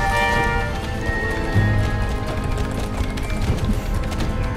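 Horse hooves gallop at a fast, steady pace in the video game Star Stable, heard close and loud under continuous game music.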